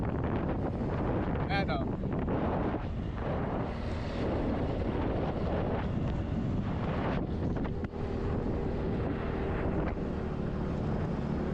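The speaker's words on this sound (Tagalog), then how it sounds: "Sobrang hangin!" Strong wind roars and buffets the microphone continuously, a heavy rushing noise throughout, with voices shouting under it.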